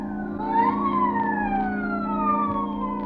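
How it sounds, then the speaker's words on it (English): A police siren wails in long sweeping tones over a steady low hum, holding at a moderate distance for the whole stretch. "the police whistle and the prowl car siren serenade the sleeper"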